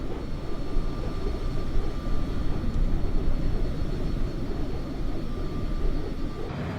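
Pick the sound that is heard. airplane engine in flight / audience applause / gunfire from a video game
airplane engine in flight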